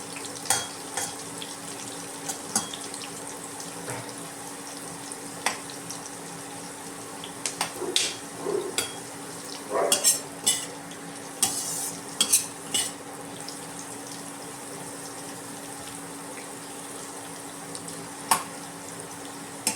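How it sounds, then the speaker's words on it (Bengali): Something frying lightly in a pan, briefly cooked so the raw smell goes off before onion, garlic and ginger join it, for an egg rice wrap; a steady low sizzle runs throughout with sporadic stirring scrapes and clicks, no talking. "খুব বেশি ফ্রাই আমি করবো না, জাস্ট যাতে কাঁচা গন্ধগুলো চলে যায় ততক্ষণ অবধি একটু ফ্রাই করবো।"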